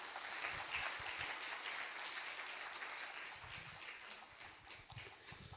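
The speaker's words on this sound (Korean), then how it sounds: "우리 하나님께 감사 박수 올려드리겠습니다." A church congregation applauds in thanks at the close of a prayer, a steady broadband patter of many hands that slowly thins toward the end, with no talk over it.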